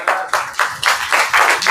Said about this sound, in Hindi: एक बार तालियां बनती है भाई साहब।